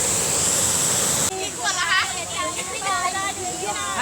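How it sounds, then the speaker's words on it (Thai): A small waterfall on the Mae Kong river pours in a dense, steady roar close by. Partway through it drops to a softer rush as people talk over it. "ดูน้ำตกตกเล็กๆก่อน สวยนะครับถึงเล็กก็สวย อยู่ในเส้นแม่น้ำแม่กองนะครับ"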